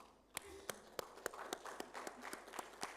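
Audience at an agricultural conference applauding its presenters: sparse, separate claps at first that build into a light, steady round, fairly distant and soft in a large room.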